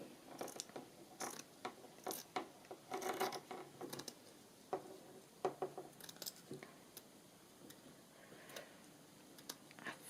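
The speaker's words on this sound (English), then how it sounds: "now I just need to trim this up a little bit" A handmade journal cover being trimmed, faint close snips and clicky cutting taps in an irregular series with short pauses, no talk.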